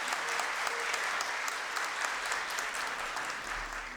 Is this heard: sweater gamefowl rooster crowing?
no